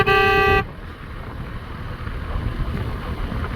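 A vehicle horn sounds one loud, steady honk at the start, then cuts off, leaving wind noise rumbling over the microphone on the road.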